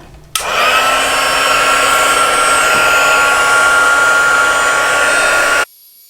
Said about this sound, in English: then you're going to want to use your heat tool, and we're just going to heat up the powder